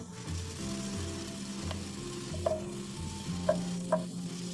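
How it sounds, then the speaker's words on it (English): Homemade hibiscus anti-aging cream with grated beeswax being stirred in a pot: a steady low cooking sizzle runs throughout, with a few light clinks of the spoon against the pan and no talking. "Keep stirring occasionally."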